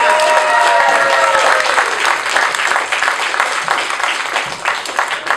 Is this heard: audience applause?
yes